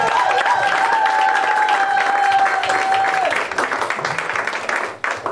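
A church congregation applauds loudly and steadily after a call to praise, a dense wash of clapping with a sustained tone over it, thinning toward the end.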